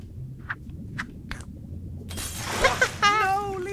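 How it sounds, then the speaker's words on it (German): Glass shattering in the video game Octodad: Dadliest Catch: a few soft clinks, then a loud crash of breaking glass with scattered tinkling debris, followed by a voice talking over the tail. "ich versuche jetzt erstmal alle Gläser hier zu zerstören"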